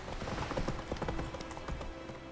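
Horse hooves clip-clop in The Witcher 3 video game, a steady rhythmic trot of muffled thuds at moderate volume, without speech.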